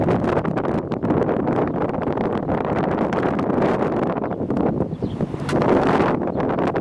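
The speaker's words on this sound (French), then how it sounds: "Du vent quand même." Loud, steady wind from a daytime thunderstorm roars and buffets the microphone throughout, with a rushing gust near the end and no voices.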